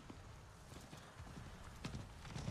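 A horse mount in the Diablo 4 video game trots with a steady clip-clop of hooves mixed into dense game ambience.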